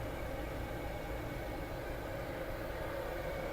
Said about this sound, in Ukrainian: В праву сторону можете відразу почути, запрацював кондиціонер